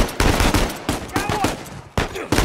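Rapid video game gunfire crackles in repeated bursts of sharp shots during a firefight, with brief pauses between volleys and faint voices in the background.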